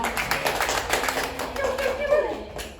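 Students in a classroom teaching session clap together in a quick burst of dense, fairly close hand claps that runs through the whole moment, with a few faint voices mixed in.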